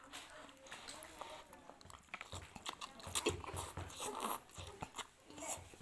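Close, quiet wet chewing and biting of chicken meatballs (bakso) mixed with tofu, irregular soft crunches and smacks, with a dog and a few voices faint in the background.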